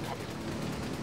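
Rapid gunfire rattles in Ghost Recon Wildlands, a dense brief burst of shots with a voice talking underneath.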